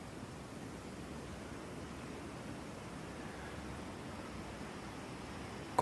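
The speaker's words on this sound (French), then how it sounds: "Continuons cette méditation avec ce bruit de vague, tout doux" Gentle ocean waves wash in a soft, steady, continuous hiss, faint and unbroken, with no voices.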